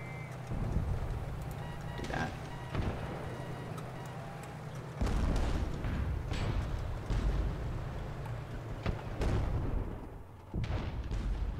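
Artillery guns firing in the tank combat game Armored Battle Crew, a series of deep booming blasts spread over several seconds above a constant low engine rumble, with sharper reports mixed in.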